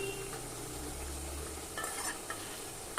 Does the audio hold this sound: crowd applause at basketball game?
no